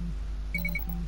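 A phone rings in The Spectrum Retreat video game, three short bright electronic chirps in quick succession over a low steady hum, fairly quiet and with no talking.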